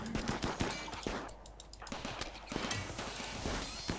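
Automated turrets in the colony game Rimworld fire at attackers, producing dense, rapid cracking bursts that rattle on and off under a constant hiss, loud and close.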